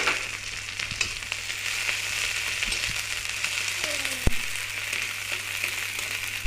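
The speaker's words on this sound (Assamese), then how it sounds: "তেলখিনি গৰম হৈ অহাত এতিয়া মই পিয়াজ আৰু জলকীয়া কেইটা দি অলপ সময় ভাজি ল'ম" Sliced onion and green chillies frying in hot oil give a continuous close sizzle with light spatter, broken by a few stirring clinks and a sharp knock partway through, with a low steady hum underneath.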